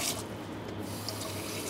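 Water splashes and trickles into a cooking pan in a brief, fairly quiet steady pour, with no voices over it.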